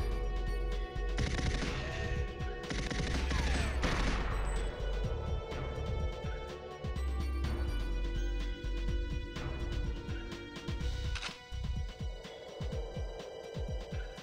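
Sniper gunfire in Goldeneye 007 keeps cracking at close range as a dense barrage of shots and impacts, heaviest early on, then thinning into scattered sharp reports over a low rumble, with no talking.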